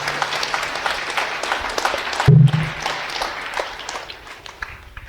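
A church congregation at Sunday mass at St. Thomas church in Avinashi bursts into sustained applause, loud and even across the room, with a brief sharp thump and a low tone partway through.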